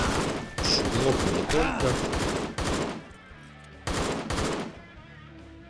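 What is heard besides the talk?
gunfire in the video game Postal 2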